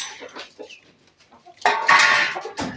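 Colour bird hens bought at a market, which lay eggs like layer hens, cluck and squawk: faint scattered clucks first, then a loud, close burst of agitated calls at the end.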